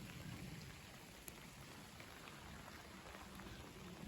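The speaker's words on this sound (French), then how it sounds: "Ça y est, il pleut bien même. Une petite averse, pas très très forte," A light evening rain shower falls steadily outdoors, producing a soft, even hiss of drops with a few faint patters, quiet and continuous with no voices.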